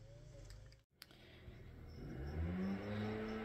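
Lawn care equipment runs outdoors nearby, a medium engine whirring steadily and growing louder after a brief dropout, with a few clicks early on.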